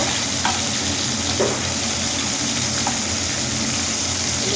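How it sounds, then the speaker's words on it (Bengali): Rohu fish roe frying in a pan, giving a steady, close sizzle and crackle that holds evenly for the whole stretch with no talking. "ডিমগুলো এগুলোকে অল্প পরিমাণে ফ্রাই করে নেব"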